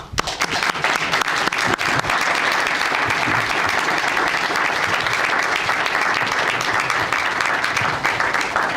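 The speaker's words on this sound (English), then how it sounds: "I really would like to give a round of applause for John" An audience at a heritage preservation awards ceremony applauds: dense, sustained clapping from many people, loud and even. It holds steady for several seconds with no talking over it.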